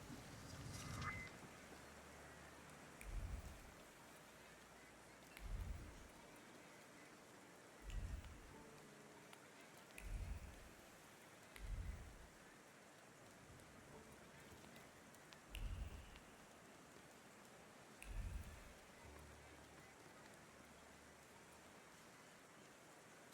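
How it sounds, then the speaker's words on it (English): Soft, steady rain hisses throughout a period street scene in The Thaumaturge, faint and even, broken by several dull low thumps spaced a few seconds apart. "And now it starts to rain."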